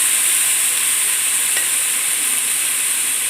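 Vegetables fry with a pinch of turmeric powder, giving a continuous, even hiss of oil sizzling close up with no talking.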